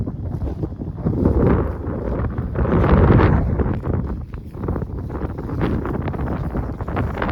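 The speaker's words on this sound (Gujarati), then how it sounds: "અને પવન પણ હે થોડો આવતો હશે વિડીયોમાં" Wind buffets the microphone outdoors among resting cows in a steady, low rumbling roar that swells and eases throughout, with no voices.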